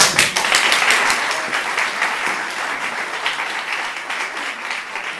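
Audience applause at a theatre performance of a murder-mystery play, starting with a strong burst of clapping close by and settling into steady, slowly fading applause across the whole stretch.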